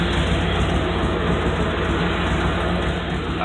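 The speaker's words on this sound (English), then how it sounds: "I've got a lifter kick." A truck engine with a lifter tick runs steadily close by, giving a dense, muffled drone with a faint, rapid ticking rhythm underneath.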